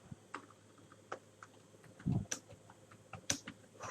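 Typing on a computer keyboard while entering search keywords, heard as sparse, quiet, irregular clicks of individual keys with short pauses, close and alone with no talking.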